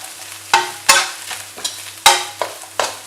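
Cabbage and carrot frying with egg in a pan for chicken rice, with sharp spatula strikes and scrapes at an irregular pace over a steady low sizzle, close and fairly loud, no voices.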